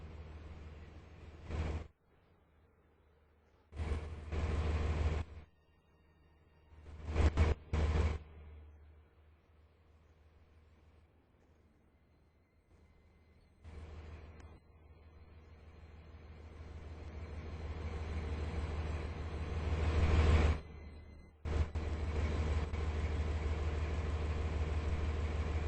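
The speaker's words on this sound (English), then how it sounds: "The train now approaching platform 7 terminates here." In a video game set at a station, a train rumbles low and faint, with short bursts of louder noise recurring before a long swelling approach that peaks and then cuts off.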